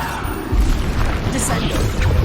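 A Bombarda explosion spell goes off in Hogwarts Legacy, a loud deep boom with a rumbling burst that lingers under the rest of the battle noise and a voice shouting.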